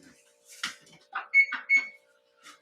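A kitchen timer beeps briefly while challah bread is being made: two short, bright tones close together, with a few soft clicks and handling noises around them.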